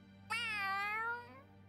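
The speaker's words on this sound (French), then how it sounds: "Oh, ce miaulement." A cat meows once in the video game Tales of Arise, a single drawn-out, rising-then-falling cry lasting about a second, clear and up front over a steady low game hum.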